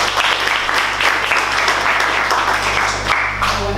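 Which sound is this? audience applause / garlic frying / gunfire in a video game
audience applause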